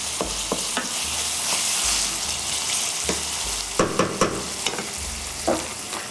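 Onion and pepper frying in a hot pan: a steady close sizzle broken by several sharp scrapes and clicks of stirring, with no talk.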